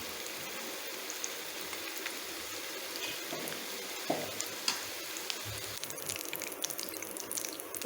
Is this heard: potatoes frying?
yes